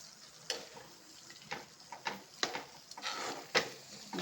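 A spoon scrapes and clicks through drumstick gojju in a pan with the stove switched off, giving irregular knocks and soft stirring scrapes, faint and close, with no one talking.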